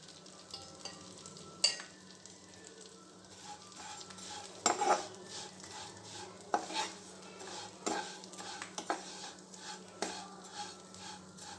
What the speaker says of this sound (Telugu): సేమియాలను వేసి వేయించుకుందాం కొంచెం గీ వేసుకుందాం